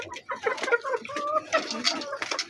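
Asil and Shamo chickens cluck and chatter while feeding on leftover rice, a steady run of close, moderately loud calls with no talk over them.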